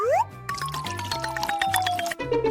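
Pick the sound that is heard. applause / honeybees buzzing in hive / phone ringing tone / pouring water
pouring water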